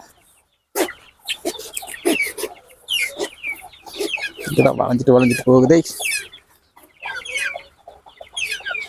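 Backyard chickens cluck and squawk close by in bursts, one loud drawn-out call standing out midway, while someone talks over and between the birds.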